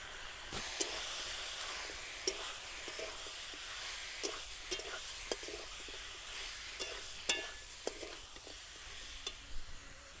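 Chicken being stirred with ground black pepper, turmeric, chilli powder, salt, cumin and garam masala for crisp pakora, a steady soft scraping and hiss with scattered sharp clicks of the spoon against the bowl throughout.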